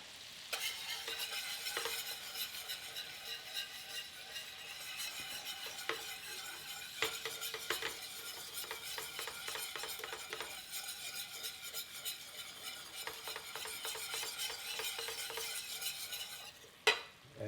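Heavy whipping cream is stirred into a sizzling New Orleans-style BBQ shrimp sauce, with a steady close frying hiss and repeated utensil scrapes and clinks against the pan, ending in one louder knock.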